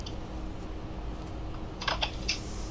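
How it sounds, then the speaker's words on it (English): Typing on a computer keyboard in a quiet room, a few soft key clicks arriving in a short cluster near the end over a low steady background hum, with no talking. "She's typing."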